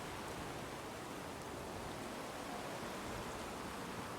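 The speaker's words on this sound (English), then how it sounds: "now it's raining" Steady rain falling in the fantasy role-playing game Enderal, a soft, even wash of hiss that holds unchanged throughout with no voices.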